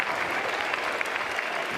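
Steady, moderately loud ballpark applause from a crowd at an NCAA baseball game between North Carolina and USC, a continuous dense clatter of hands with no speech over it.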